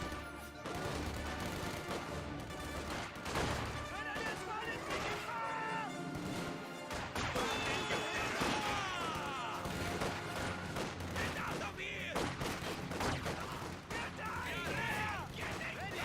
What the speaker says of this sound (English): Two Grenadiers over here firing away